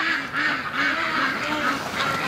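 Ducks and geese quack and honk repeatedly outdoors in the snow, a steady series of close, moderately loud calls overlapping one another.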